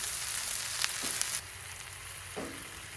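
Peppers sizzle in a hot cast iron pan on a grill, a soft, steady frying hiss with a few faint clinks and scrapes, heard alone without talk.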